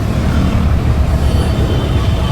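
A train runs alongside a road, its steady close rumble and rolling wheel clatter filling the whole stretch at a constant loud level with no voices.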